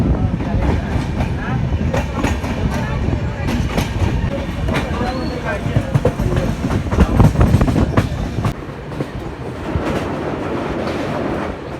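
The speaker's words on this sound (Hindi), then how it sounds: "6:08 का ट्रेन हमारी चल पड़ती है निर्वाणा से भी" A passenger train pulls out of Narwana junction, a continuous loud rumble of wheels and carriage noise with faint clattering and indistinct voices mixed in throughout.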